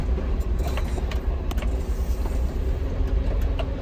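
A car pulling away out of the way at a factory entrance: a close, loud engine rumble and tyre noise holds steady throughout, with small rattles and clicks on top.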